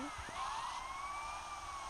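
A police siren in GTA wails with a rising, sweeping tone, steady and fairly close, over a faint background hum.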